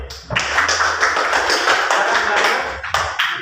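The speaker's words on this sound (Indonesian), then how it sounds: "Tepuk tangan buat kelompok 2." Classroom applause for a school group presentation, a dense burst of many hands clapping steadily for a few seconds, fairly close and loud, with no talk over it.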